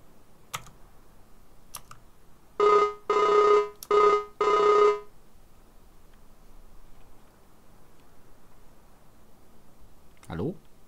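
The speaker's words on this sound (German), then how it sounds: "Telefon." A phone rings in the farming game Farming Simulator 19 with four loud electronic bursts in a row, each a short trill, amid faint clicks and quiet background.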